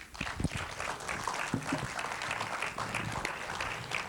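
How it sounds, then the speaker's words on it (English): An audience gives a round of applause at a talk, a steady wash of many hands clapping at an even level throughout. "Round of applause for her."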